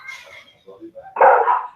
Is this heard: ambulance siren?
no